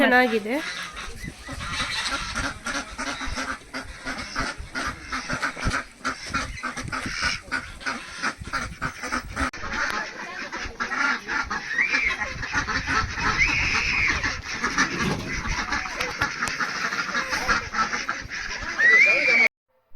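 Large birds honk and call loudly and repeatedly, close by, with overlapping goose-like cries throughout.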